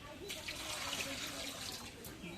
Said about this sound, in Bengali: কড়াইয়ের মধ্যে পানি দিই।